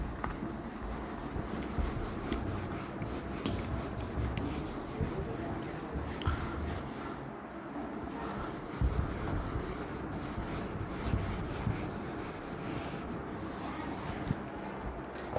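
Steady rubbing and scraping of a duster wiping a diagram off a classroom board, continuous and fairly faint, with soft shuffling strokes and no talking.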